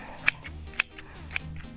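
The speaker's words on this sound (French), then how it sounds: "Ces ciseaux, ils sont géniaux." Scissors snip in a few quick, crisp cuts through an animal's coat during spring grooming, close up and otherwise quiet.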